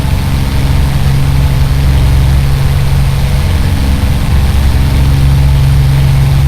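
A Spitfire Mark I engine held at high power at low altitude in a flight simulator, droning loud and steady with a deep, unbroken roar that stays constant throughout.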